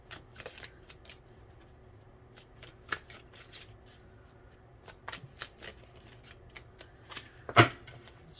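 Tarot cards shuffled by hand in a quiet room, a run of soft riffling flicks and taps spread over several seconds, ending with one sharper, louder card snap near the end.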